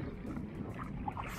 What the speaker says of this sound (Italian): Le onde sono aumentate, sono belle alte adesso